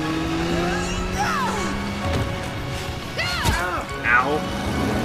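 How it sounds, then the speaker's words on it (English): A motorbike in an animated Death Battle fight between Lara Croft and Nathan Drake revs and whines past, with tire squeals and impacts mixed into a busy action soundtrack. "There she is with the motorbike!"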